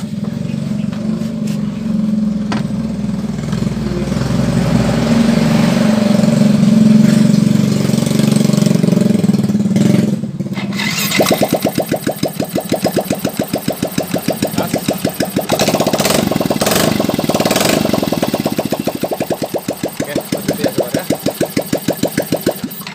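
A Yamaha Fino scooter engine with its exhaust removed cranks over after a low steady whir, catches around the midpoint and settles into a loud, fast, rattling idle that runs close and alone to the end.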